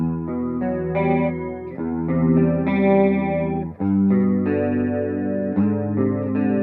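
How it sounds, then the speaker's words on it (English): A Jackson Soloist SL2MG electric guitar with EMG pickups plays sustained chords and ringing notes with a shimmering chorus effect, steady and full, no voices. "you need to put on a bit of chorus with that as well"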